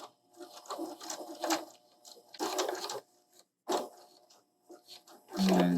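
A sewing machine backstitches quilt binding in short whirring bursts separated by pauses, with a person talking close by.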